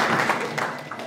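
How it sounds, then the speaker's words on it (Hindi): A mushaira audience gives a dense burst of applause, many hands clapping together in a steady, fairly loud wash that fills the whole moment. "एक बार इनके सम्मान में तालियां बजा दीजिए"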